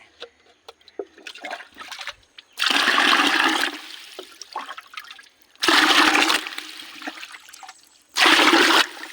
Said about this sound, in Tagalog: Tingnan nyo, kinukuha ng tubig mga lods.